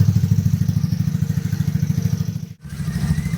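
A 320cc Mio motorcycle engine idles close by with a rapid, steady thumping pulse. It cuts out briefly near the end, then resumes its even chug.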